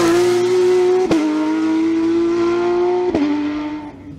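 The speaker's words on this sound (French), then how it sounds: "Paul Reuter place sa Porsche 991 GT3 Cup à la 3e position du classement général" A Porsche 991 GT3 Cup race car at a hill climb near Saint-Jean-du-Gard holds a loud, high-pitched engine note, with two quick gear-shift blips before the sound fades as the car moves away.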